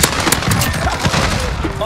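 Dense rapid gunfire from Call of Duty Modern Warfare rattles continuously in sharp overlapping bursts, loud and close, with a busy game soundscape behind it.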